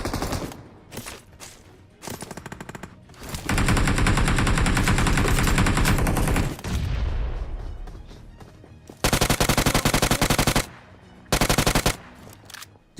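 Gunfire from a shooter video game: loud bursts of automatic fire, with long sustained volleys and shorter clipped bursts separated by brief quiet gaps.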